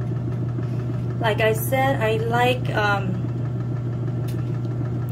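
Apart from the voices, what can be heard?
Costway mini washing machine spin cycle running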